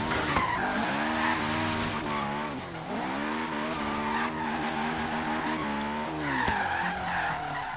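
A turbo Honda S2000 drifts in Forza Horizon 3, its tires squealing in a long, wavering whine over a droning, revving engine that dips and surges throughout.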